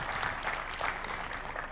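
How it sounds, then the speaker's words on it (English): Audience applause for historian and author Ramachandra Guha at a changemakers series talk, a steady wash of moderate clapping held evenly throughout with no voices over it. "a big round of applause for our changemaker today"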